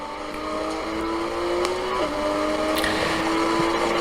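A race car engine drones steadily and loud while accelerating along Chuckwalla Valley Raceway, its pitch shifting briefly mid-run as the car heads uphill into the esses, with no talking.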